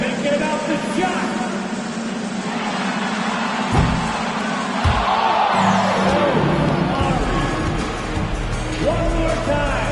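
Virtual arena crowd in NBA 2K25 roars and cheers steadily during a fan half-court shot event, with a broad wash of noise, a few thumping bounces and an announcer-like voice underneath.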